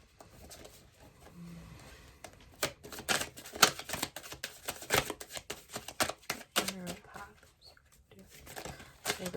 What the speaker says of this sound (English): Let me go ahead and take all these cards out